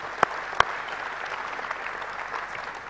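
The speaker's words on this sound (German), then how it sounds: "das verdient jetzt aber wirklich einen tollen Applaus" At an award ceremony for a national roofing and sheet-metal championship, an audience gives sustained, even applause from a moderate distance, with two sharper claps standing out near the start.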